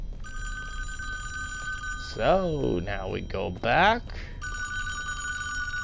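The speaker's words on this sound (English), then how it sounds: "you can hear the phone ring again." Telephone in the cabin of the Friday the 13th video game rings in repeated electronic trills, steady in the background before and after someone talks over it.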